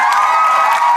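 A live audience at a permanent makeup convention cheers and shouts for someone named Brooke, a dense, steady crowd roar that holds loud and constant without a break.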